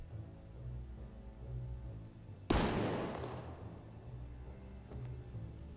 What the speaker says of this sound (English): Pretty decent sized explosion.